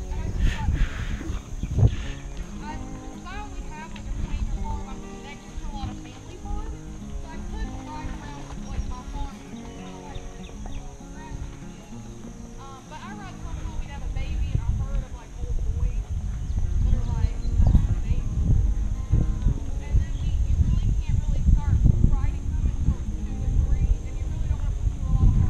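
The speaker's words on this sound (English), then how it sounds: "This is Danny Boy. This is my horse." A horse on a trail ride, its hooves clip-clopping at a walking pace under steady talk from riders, with outdoor background sound throughout.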